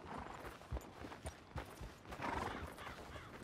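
A horse whinnies amid steady hoof clip-clops and ambient background in the video game Red Dead Redemption 2, fairly close and moderately loud, with no speech.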